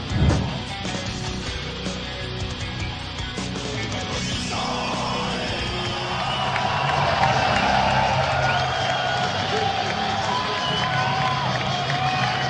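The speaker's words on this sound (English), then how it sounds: "Wagner Fabiano into large cheers. This crowd behind him" A large crowd at a Brazilian jiu-jitsu fight event roars and cheers continuously, loud and dense throughout, with a brief swell of shouting partway through.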